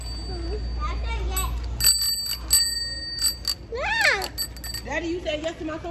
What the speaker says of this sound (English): And they got a bell, look.